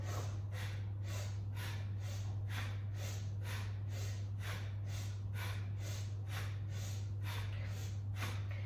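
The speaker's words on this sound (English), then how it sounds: "So it's fast breath, like this." Rapid, rhythmic nasal breathing from a yoga fast-breath exercise, about two forceful snorting exhales per second, close and even over a constant low electrical hum.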